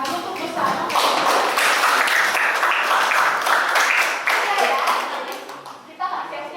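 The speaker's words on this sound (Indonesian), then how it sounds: "Tepuk tangan dulu untuk bersama" Students in a biology class clap together, a loud burst of many hands lasting several seconds before thinning out near the end, with a voice briefly audible as it fades.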